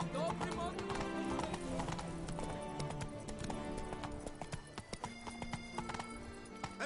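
Hoofbeats of Roach, Geralt's horse in The Witcher 3: Blood and Wine, galloping in a rapid clip-clop rhythm with a whinny, under game music and a spoken voice, all fairly quiet.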